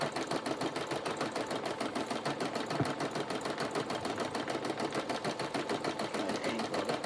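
An embroidery sewing machine stitches a haunted-house design onto toilet paper, giving a steady, fast mechanical rattle of needle strokes that runs evenly and fairly close throughout, with no voices.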